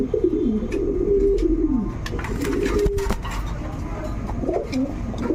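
Danish, King, Beauty and Damascene pigeons coo loudly and continuously at close range, their deep rolling calls repeating without pause and with no talking.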